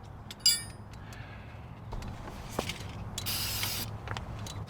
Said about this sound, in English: Use your brake clean.